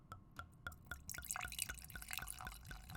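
White wine poured into a glass gives a soft, close, rhythmic run of glugs and drips that quicken and thicken as the pour goes on, quiet and alone.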